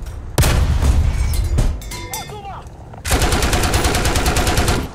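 Vehicle machine gun fire in War Thunder ground battle, with a long rapid burst of close, loud shots, a pause with ricochet-like whines and rumble, then another sustained rapid burst.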